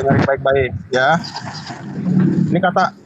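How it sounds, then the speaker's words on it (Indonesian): Inside a car, a low rumbling cabin hum sits under close, loud speech from someone talking throughout. "Masih di mobil, dengar nggak suaranya?"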